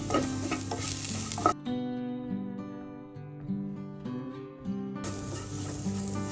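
Plantain heats and is mashed in a pan for a lentil payasam, with continuous sizzling and stirring scrapes, while steady tonal music plays throughout.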